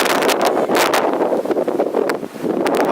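Strong wind during a thunderstorm in Chicago roars and buffets the microphone in loud, continuous gusts with rustling bursts throughout.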